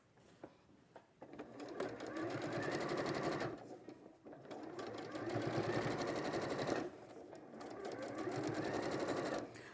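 A sewing machine stitches a quilt seam through fusible foam, running in two long bursts of steady, close mechanical whirring with a brief pause between them, while a voice can be heard faintly at times.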